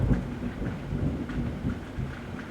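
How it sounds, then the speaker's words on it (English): Low rolling thunder during a thunderstorm, a deep rumble with rain hiss behind it, moderately loud, steady and unbroken, with no voices. "Hello, Thunder."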